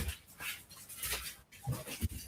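Dogs whimper and whine indoors after a fridge is opened, producing a few short, high, breathy cries that come and go in uneven bursts at moderate volume, with no talking.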